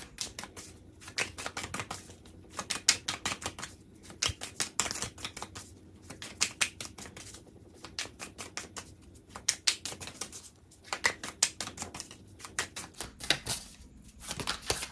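Tarot cards being shuffled by hand, a long run of quick crisp riffling bursts broken by brief pauses, close and fairly soft with no talking.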